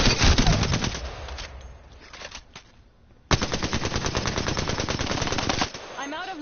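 Automatic weapons firing in the shooter game Apex Legends: two long, loud bursts of rapid rounds separated by a brief lull with scattered shots and reload clatter, with a voice talking faintly underneath.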